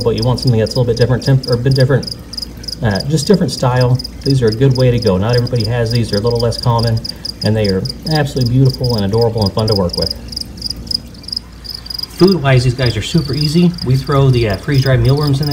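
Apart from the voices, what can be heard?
crickets chirping in gecko enclosure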